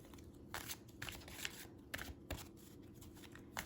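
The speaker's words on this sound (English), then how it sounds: "give it a little shuffle." Quiet, close paper flicks and soft riffling ticks repeat irregularly, like cards being shuffled by hand.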